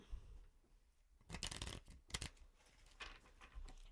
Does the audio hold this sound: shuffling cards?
yes